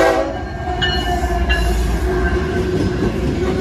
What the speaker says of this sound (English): Wow, a lot of AC-44 locomotives on this train.